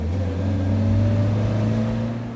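A Fiat Millecento's 1100 cc classic car engine pulls away with a steady, buzzing mid-pitched drone that swells slightly, then eases. It is close and continuous, with no voices.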